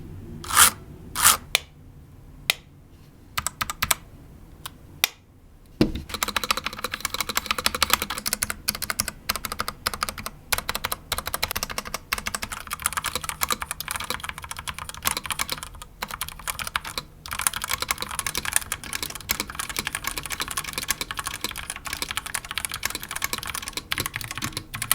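Typing on a Womier WK61 budget mechanical keyboard with unlubricated switches and factory-lubed stabilizers: steady, dense keystroke clatter near the microphone, sparse at first and then continuous and moderately loud, with no talk.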